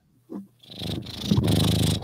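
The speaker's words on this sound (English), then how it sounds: "Oh, there's the cat purring." A house cat purrs right against a microphone: a brief rumble, a short pause, then a close, loud, continuous purr that holds to the end.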